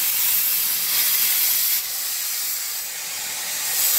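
A Donkin steam steering engine releases a loud, continuous hiss of steam, strong and close throughout, dipping briefly partway before swelling again.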